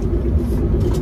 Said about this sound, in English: Feel the awesome force of the Honda Element and the 24K, K24, 24K motor.